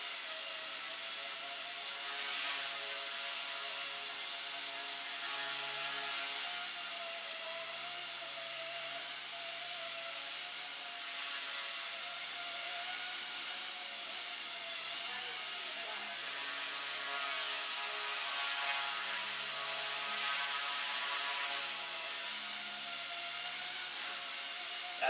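A Blade mCP X BL2 RC helicopter's rotor spins at about 8,000 RPM, giving a steady, loud high-pitched whine and whir that holds constant throughout without pause.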